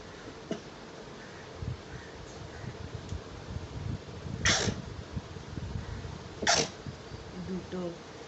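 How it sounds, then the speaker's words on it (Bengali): Someone tickles their nose with a thread from a cotton towel and sneezes twice, each one sharp and close. Faint handling noises and breathing fill the space in between. "তো দেখি আমি কতগুলো হাঁচি দিতে পারি"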